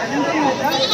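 A goat kid bleats briefly, wavering, amid noisy crowd chatter close by at a Bakrid sheep and goat market in Chikka Tirupati, Bangalore.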